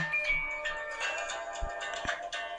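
A phone rings from a fake call app, a steady electronic ringtone with sustained tonal lines repeating over a few seconds, fairly close and clear.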